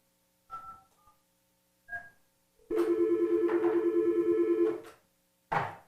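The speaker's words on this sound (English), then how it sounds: "Let's say Susie calls Johnny" An office phone places a call using speed-dial keys: a few short keypad beeps, then a long steady ring-back tone, with a final brief beep at the end.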